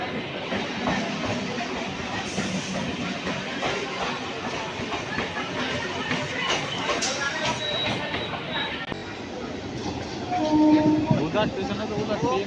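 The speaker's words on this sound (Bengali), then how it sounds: "তো চলো ট্রেনে উঠি" Passenger train on the Ranaghat to Tarakeswar route, heard from inside a carriage: a steady rumble and rattle of the running train with clattering wheels throughout, under people talking.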